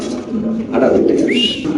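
Fancy pigeons on a pigeon farm, Pakistani white Danish birds among them, give soft low cooing, one short call rising near the end, while a voice speaks over them close by.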